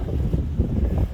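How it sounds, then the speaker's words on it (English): Wind gusting across a seaside pier in Florida, a steady low roar buffeting the microphone with rising and falling rumble and no voices. "this place is probably really windy and terrible audio"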